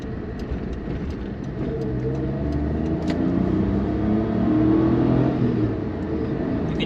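A Suzuki Jimny JB23 accelerates on a highway, its engine a steady, loud rumbling drone that rises gradually. A faint whir from the turbo spooling up sits over continuous road and wind noise, with no voices.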